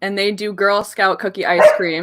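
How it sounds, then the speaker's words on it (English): A dog barks a few times in the background of an indoor room while a person talks over it nearly the whole time. "First off, sorry about the dog."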